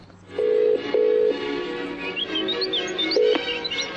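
A telephone rings at the start of a played prank call to the King Edward VII Hospital, giving a few loud repeated electronic ring bursts with faint chirps between them.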